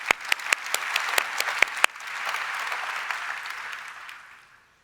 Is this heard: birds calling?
no